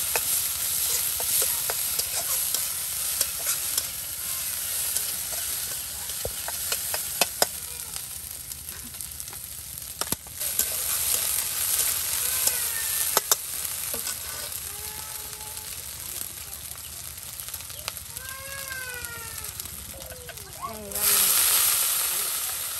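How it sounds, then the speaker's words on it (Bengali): Chopped onions with ground spice paste and cumin paste frying in oil, a steady broadband sizzle running throughout with occasional scrapes and knocks of stirring, voices speaking over it near the end. "পেঁয়াজ কুচি তেলে কিন্তু ভেজে নেওয়া হচ্ছে"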